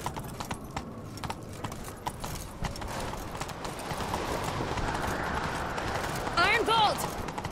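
A horse gallops with steady clip-clop hoofbeats in The Witcher 3, under in-game music and background sound, with a short whinny-like cry near the end.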